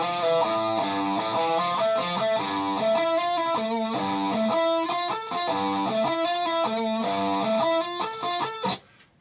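Distorted electric guitar plays the chugging bridge riff from a song, a lesson part close to the intro riff, with steady repeating note patterns, loud and sustained for about nine seconds before cutting off.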